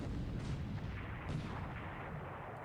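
A torpedo strike in a naval war video game erupts as a dense, rumbling explosion that rolls on continuously at moderate loudness.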